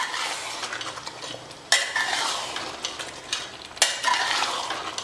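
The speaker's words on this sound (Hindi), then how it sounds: "अब इसे खोलकर हम अच्छा बढ़िया भून लेते हैं।" Chicken and masala are stir-fried in a pot for a Mughlai chicken curry, with a soft steady sizzle broken by two loud scraping clatters of a spoon against the metal pot, close and without speech.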